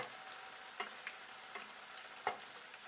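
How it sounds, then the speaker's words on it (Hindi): Malpua frying in hot ghee, a faint steady sizzle with a few soft ticks and pops scattered across it and no talking. "ये देखिए अब मालपुए तैरने लगे हैं घी में"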